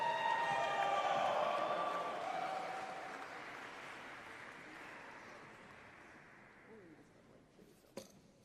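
Commencement ceremony crowd applauding Master of Music degree recipients, loud sustained clapping at the start that gradually fades, ending with a faint single sharp knock.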